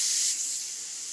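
Airbrush spraying black paint on a freehand skull artwork, a brief bright airy hiss, strongest at first then easing slightly, close and steady with no voices.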